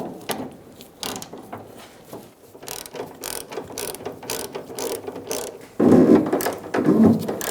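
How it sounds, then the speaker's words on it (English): Ratchet wrench with an extension and socket clicking repeatedly as a bolt is driven in on a 2002-2006 Toyota Camry vapor canister strap, a close, steady series of sharp pawl clicks that grows louder and heavier near the end. "Let's get our bolt started. I'm using an extension and a socket."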